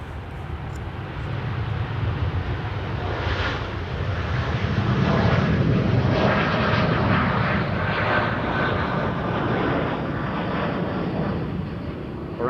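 A TUI Boeing 787-8 jet, Belgian-registered and 11 years old, departs Amsterdam Schiphol, its engines roaring steadily and loudly throughout with a broad sustained rumble that swells slightly mid-pass.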